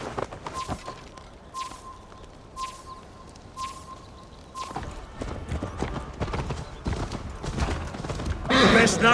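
Horse hooves clip-clopping in a steady galloping rhythm in the video game Assassin's Creed Valhalla, with a repeating tonal beep early on and a voice speaking near the end.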